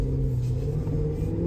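A cammed 2023 Cadillac Escalade V, running rear-drive only with its front driveshaft removed, roars with a deep, loud, sustained engine rumble heard up close for a short burst, no speech over it.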